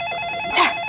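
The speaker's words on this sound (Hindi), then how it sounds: "जी जी, वर्मा साहब का फोन था।" A telephone rings once, a short loud electronic trill over a steady tonal hum, close by, with no talk.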